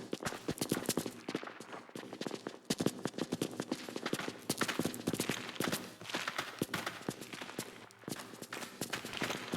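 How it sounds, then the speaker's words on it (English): Rapid footsteps from Baldur's Gate 3, a dense run of crisp, close impacts layered over a continuous fantasy ambience bed, steady and busy throughout with no voices over them. "the footsteps are soloed, and then the rest of the ambience is being added, so you can really hear how it blends together"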